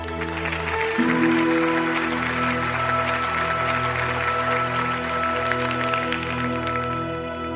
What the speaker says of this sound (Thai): ปรบมือให้กำลังใจทุกคนครับ